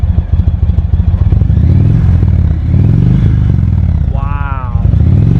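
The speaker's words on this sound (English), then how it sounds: "Give it a little rev for us." Ducati Panigale V4 carbon motorcycle engine revved up close with its stock exhaust, a loud rumbling idle that climbs and falls in a few throttle blips, with a voice speaking over it.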